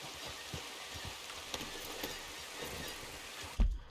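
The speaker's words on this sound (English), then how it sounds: "it's raining" Quiet, even rain patters in the video game Red Dead Redemption 2, a faint continuous hiss with small droplet ticks, cut off by a dull thump at the end.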